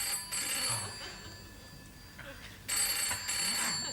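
A telephone rings in a quiet interior in an older British sitcom scene, two bursts of bright electronic trilling separated by a hushed pause, heard alone without talk.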